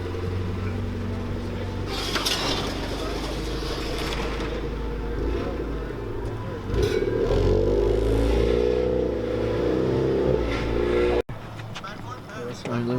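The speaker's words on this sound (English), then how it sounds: "I started this car before." An old Honda Civic engine runs with a steady low drone that grows louder and rougher partway through, then drops back near the end, with voices faintly in the background.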